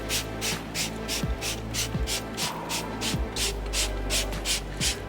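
Trigger sprayer misting professional wheel cleaner onto a car's wheels and tyres, a rapid run of about a dozen short, close hissing bursts in an even rhythm.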